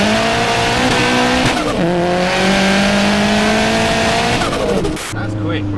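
A 500HP turbocharged Vauxhall Astra VXR pulls hard, engine note climbing through gears with a brief drop at each shift, loud and close, with people talking over it.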